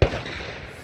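A single sharp pistol gunshot at a USPSA practical shooting stage, loud and close, with a short decaying ring afterward and no talk.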